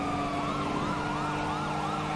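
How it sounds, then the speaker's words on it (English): Wailing emergency vehicle sirens cycle up and down close by, loud and continuous over road rumble, during a high-speed fire-rescue pursuit. "God, they're not yielding to our sirens."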